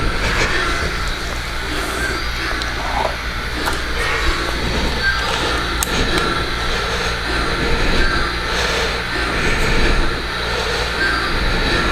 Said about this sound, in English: we're going to see if we can get the ELF work train to run